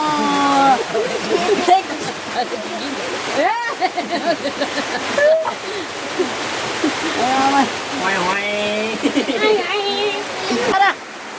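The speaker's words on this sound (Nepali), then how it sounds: "यत्रो ठुलो पानी" A heavy downpour falls after many dry days, a loud, continuous rushing roar of rain with splashing water, while people talk excitedly over it.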